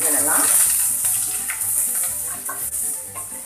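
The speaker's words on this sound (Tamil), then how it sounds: "வெங்காயம் எல்லாம் நல்லா வதங்கணும் அது வரைக்கும் நல்லா வதக்கி விடுங்க" Onions sautéing in a pan for tomato kurma give a steady bright sizzle with occasional stirring scrapes, close and fairly loud throughout, with no voice over the cooking.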